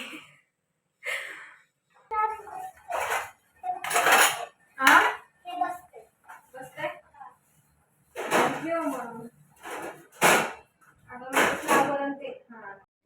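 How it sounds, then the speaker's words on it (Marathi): Dishes, pots and pans are scrubbed and handled in a home kitchen, with scattered clinks and clatters of metal cookware coming in short bursts with quiet gaps between them, mixed with some speech. "आता ही जी थोडीफार भांडी आहेत ना ती घासून घेते"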